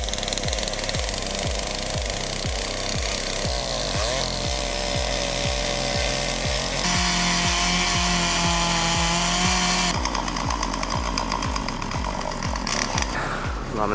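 A chainsaw cuts into a 12-meter dead tree, its engine snarling loudly and steadily at close range with rhythmic pulsing and shifts in pitch as the blade bites through the wood.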